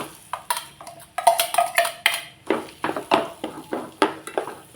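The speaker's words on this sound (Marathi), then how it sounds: "बटाटे छान परतून घेऊ आपण मसाल्यामध्ये" A metal spoon scrapes and knocks against a pan in quick rhythmic strokes as boiled, hand-mashed potatoes are stirred into roasted masala for kacchi dabeli, close and crisp with no talking.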